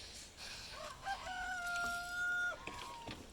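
A pet chicken kept among other birds such as quail lets out a loud, drawn-out, crowing-like call in the middle, framed by softer clucks and faint background bird noise.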